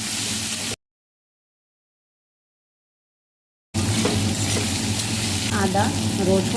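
Chopped onion fries in hot oil for a rohu fish-head curry, a close, even sizzle that cuts out completely for a few seconds before returning, with faint stirring noises.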